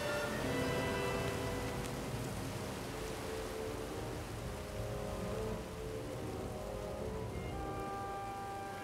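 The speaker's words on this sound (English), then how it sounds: "We're in the horizontal rain." Heavy wind-driven rain lashes an exposed coastal headland path near Padstow in Cornwall, a dense, steady roaring hiss that stays loud and close throughout with no voices.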